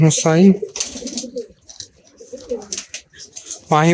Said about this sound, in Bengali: দেখেন এই যে কবুতরটা